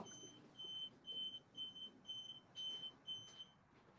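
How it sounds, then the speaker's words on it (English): A quiet home alarm system emits a string of short, high beeps in a quick irregular rhythm, faint and somewhat distant, with no talking. "stupid alarm system is annoying"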